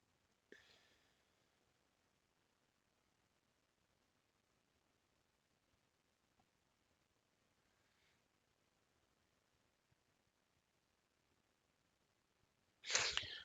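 A single loud, close sneeze bursts out at the very end after a long stretch of near silence, preceded by a faint breathy sound early on.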